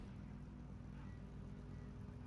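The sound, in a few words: racing car engines at start in sim racing game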